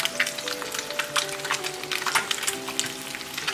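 Eggs sizzle and crackle in a frying pan, a steady, close hiss of bubbling oil with scattered pops throughout and a faint tonal hum behind it.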